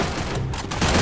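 Dense gunfire in the zombie defense mode of Free Fire, fired from an MP5 Samurai Rồng, a steady loud burst of rapid shots filling the moment with no voice.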